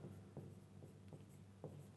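Chalk or marker taps and strokes on a board during a Grade 10 biology lesson, a few short quiet scratches in a sparse rhythm with no talking over them.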